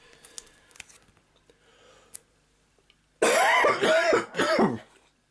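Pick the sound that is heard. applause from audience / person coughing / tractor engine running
person coughing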